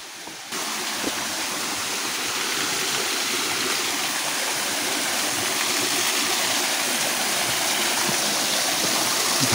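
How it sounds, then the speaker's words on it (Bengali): Bhangi Kusum waterfall at Kankrajhor in Belpahari rushes steadily, a dense broad roar of falling water that swells slightly after a brief start and holds strong and close, with no voices. "একটা আওয়াজ ঝর্ণার পাচ্ছি।"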